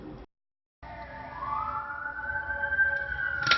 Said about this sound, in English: Hear a siren.